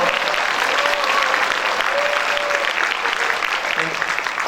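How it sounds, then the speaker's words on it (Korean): Audience applause fills a church lecture event in Korea, steady and fairly loud throughout, with a voice faintly audible over the clapping. "박수 쳐주실 건가요?"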